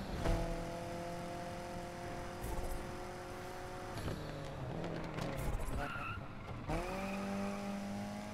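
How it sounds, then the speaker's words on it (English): Car tires skid through an e-brake grip turn in the racing game NFS Unbound, a loud screech riding over a steady engine drone with a second squeal toward the end. "Try to e-brake grip turn that"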